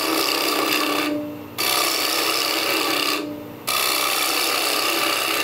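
A wooden bowl spins on a lathe while a tool rubs and rasps against the wood in a steady, close, harsh grind. The sound cuts out twice in short pauses and then resumes.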